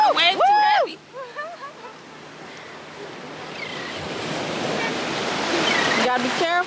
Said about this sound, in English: You gotta be careful. Heavy waves.